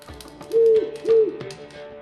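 An owl in The Witcher 3: Wild Hunt gives two clear, close hoots about half a second apart, each a steady tonal call, alone with no talk over them.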